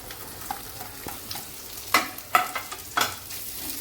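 Thinly sliced onions frying in garlic paste for noodles, a soft continuous sizzle with a few louder crackling stirs near the end, close and without speech.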